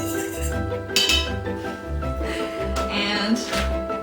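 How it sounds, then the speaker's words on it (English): Two eggs are whisked lightly in a bowl, giving a few scattered clinks and taps of utensil against the bowl over a low background hum. "I already have 2 eggs in my bowl. And I'm just gonna whisk them up slightly."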